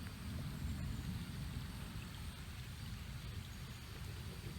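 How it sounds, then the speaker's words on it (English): Rain falls steadily around a kayak on open water, a dense, even hiss with a low rumble beneath it, constant and unbroken throughout, with no voices. "Of course, it's raining again."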